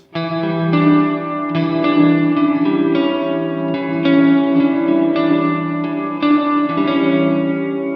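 Electric guitar played through a Fender Hammertone Reverb pedal with dampening engaged, sustained chords ringing with a soft reverb tail, steady and close with no talking.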